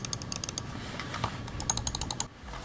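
Button clicks on Logitech MX Master and Performance MX mice, a quick run of light, crisp plastic clicks in two bursts with a short pause between, close and fairly quiet.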